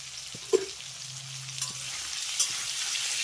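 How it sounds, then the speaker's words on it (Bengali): Potato and pumpkin fry in hot oil with turmeric and salt, a steady close sizzle with a few soft scrapes of stirring. "আলু আর মিষ্টি কুমড়োটাকে একটু ভালো করে ভেজে নেব"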